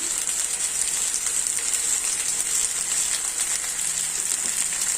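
Potato and pointed gourd pieces frying together in oil, a dense, even crackling sizzle that holds steady and fairly loud throughout, with no voices.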